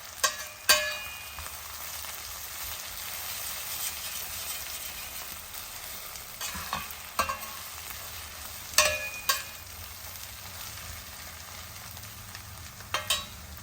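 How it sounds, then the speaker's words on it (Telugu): Ginger garlic paste and onions fry quietly in oil, a soft, even hiss broken by a few sharp clicks and spatters scattered throughout. "అల్లం వెల్లుల్లిపాయ పేస్ట్ పచ్చివాసన పోయే వరకు మంచిగా నూనెలో వేగనిద్దాం"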